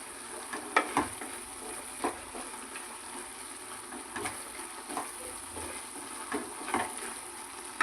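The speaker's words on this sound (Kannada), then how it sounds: "ಟೊಮೊಟೊ ಇನ್ನೂ ಸ್ವಲ್ಪ ಮೆತ್ತಗಾಗಬೇಕು. ಚೆನ್ನಾಗಿ ಫ್ರೈ ಮಾಡ್ಕೋಬೇಕು." Tomatoes softening as they fry in a pan for sundekayi gojju, a soft steady sizzle with a few light scrapes and clinks of stirring spread through, no voices.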